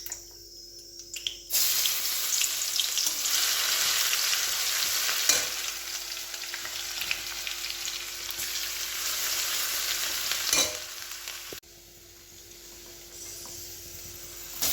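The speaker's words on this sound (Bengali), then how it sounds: "এবার কড়াইয়ে তেল আর শুকনো লঙ্কা দিয়েছি, আর 1 চামচ চিনি দিয়েছি। এতে 1 চামচ চিনি দিয়েছি। এবার এতে রসুনগুলো দিয়ে দেবো।" Garlic drops into hot oil with dried chillies and a spoonful of sugar in a kadai. A loud, steady frying hiss erupts and holds for about ten seconds, then cuts away to quieter background.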